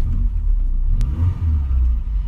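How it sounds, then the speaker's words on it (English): A 1980s Citroën CX Estate's engine rumbles low and revs up in a couple of quick surges, close by, with no voices. "I've been told I can rev the car so I can show you how she sounds"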